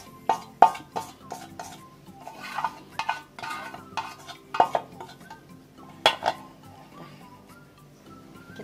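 A spoon stirs banana cake batter mixed with melted margarine in a bowl, giving repeated sharp clinks and scrapes against the bowl with soft wet swishes between them, close and alone.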